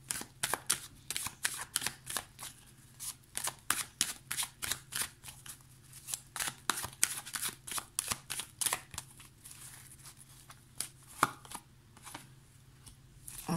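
Tarot cards being shuffled close up make quick bursts of crisp riffling and tapping, repeated in an irregular rhythm with short pauses and no talking.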